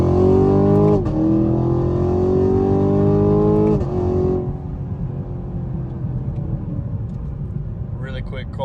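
A 2022 Camaro 2SS 1LE in sport mode accelerates hard, its engine note rising through two gear pulls with sharp shifts, then settling into a lower rumbling cruise.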